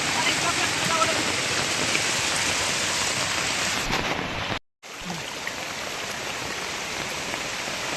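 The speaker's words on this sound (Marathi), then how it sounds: "हा प्रवाह खूप जोरदार आहे" A strong river current rushes in a dense, steady roar during heavy monsoon rain, loud and close, broken by one sudden half-second silence partway through.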